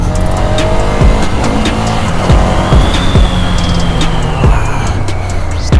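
A Ducati Scrambler motorcycle engine revs hard in first gear to lift a wheelie, a loud, close, continuous roar with a rising pitch and no talking.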